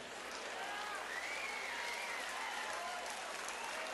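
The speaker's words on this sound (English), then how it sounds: "Please give yourself a round of applause" Guests at a licensing industry hall of fame gala in Las Vegas applaud, a dense, uniform wash of clapping that sounds distant and muffled and stays steady throughout.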